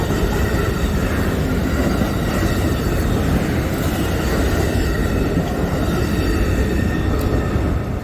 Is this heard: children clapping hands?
no